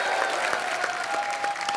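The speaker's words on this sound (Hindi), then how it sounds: "आप सबकी जोरदार तालियों के बीच इनवाइट करना चाहूंगा" Studio audience of a TV comedy talk show applauding to welcome film guests, a loud, even burst of clapping with no voices over it.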